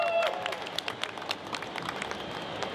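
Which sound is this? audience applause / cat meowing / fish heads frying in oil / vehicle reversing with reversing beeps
audience applause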